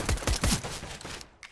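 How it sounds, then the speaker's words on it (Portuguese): Rapid bursts of gunfire ring out in a Counter-Strike style competitive shooter, three or four sharp loud shots in quick succession followed by fainter trailing shots, close and without talk. "Calma aí que o cara tá dando tiro aqui"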